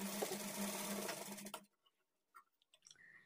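A sewing machine stitches blouse lining pieces together in one fast, close, whirring run of about a second and a half, then stops, leaving faint handling noises.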